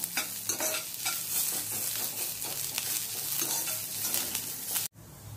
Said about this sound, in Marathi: सर्वप्रथम कांदा आणि लसूण भाजून घेऊया। छान लालसर खरपूस होईपर्यंत आपल्याला हे भाजायचं आहे।